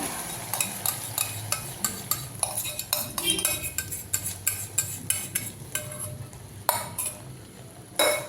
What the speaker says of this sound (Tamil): நல்லா நம்ம கிண்டி விட்டே இருக்கணும்.